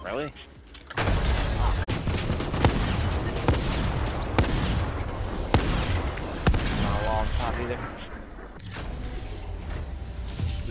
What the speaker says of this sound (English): Is that the extended barrel version of the shotgun?